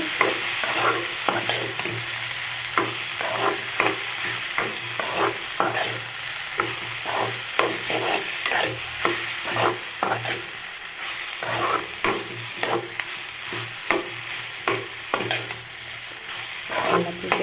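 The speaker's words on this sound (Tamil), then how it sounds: "வெண்டைக்காய் நல்லா வதக்கிக்கோங்க பாருங்கள் நல்லா பிஞ்சு வெண்டைக்காவை பாருங்கள்" Okra being sautéed in a hot pan, with a steady sizzle and frequent rhythmic scraping stir strokes, close and continuous throughout.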